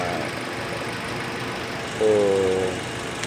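A car engine idles steadily after its radiator cap is replaced for an overheating problem, giving a continuous low hum. Someone speaks briefly over it.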